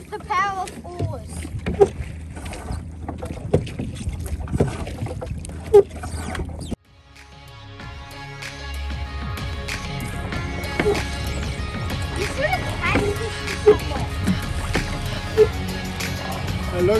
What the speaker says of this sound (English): Overtake them with the power of oars!